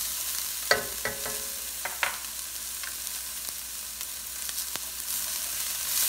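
Green sugar snap peas heating in a pan with chicken cauliflower fried rice, a low sizzle under scattered light clinks and scrapes of a utensil, fairly quiet and close.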